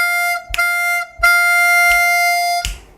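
Blues harmonica plays a simple 5 draw lick in a 12-bar blues: two short notes followed by a longer held note, then the figure repeats. Each note is preceded by a soft breathy attack, and the clear reedy tone sits alone with no talking.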